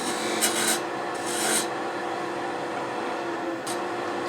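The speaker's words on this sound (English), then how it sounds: "Use a spindle rough and gouge since it's handy." A spindle roughing gouge peels wood on a lathe, making a continuous close rasping hiss under the spinning drone, broken by a few brighter scraping bursts as the cut bites.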